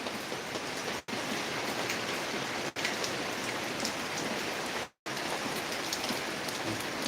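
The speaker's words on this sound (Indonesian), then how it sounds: "Hujan deras." Heavy rain pours steadily onto a roof with newly fitted gutters, a dense, continuous hiss that stays loud and even throughout, broken only by a few brief cutouts.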